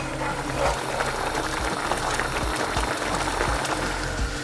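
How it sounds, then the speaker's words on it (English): Sauce bubbles and pops steadily in a pan, a dense close crackle of boiling with a low steady hum underneath and no talking. "So we've been boiling this away."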